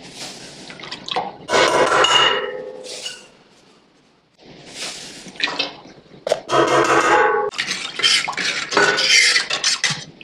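Salt being stirred into a small pine needle dye bath, with close, wet clinks, drips and liquid swishing in irregular bursts and a brief quieter pause in the middle.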